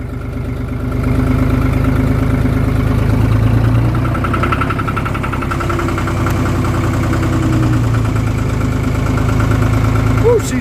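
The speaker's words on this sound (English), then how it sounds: "Woo, she's cold. She's running." A John Deere 5205 tractor's diesel engine runs just after a cold start, a loud, close, steady clattering idle with rhythmic knocking, and someone speaks briefly over it.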